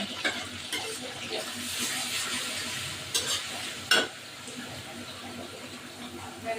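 Onion paste hitting hot oil for chicken rezala, sizzling steadily as a spoon stirs and scrapes the pan, with a few louder knocks and clatters up close and faint background sounds.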